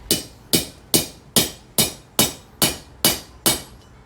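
A hammer strikes metal on an anvil while flat jaw tongs are forged, nine evenly spaced ringing taps about half a second apart, close and clear with no talk.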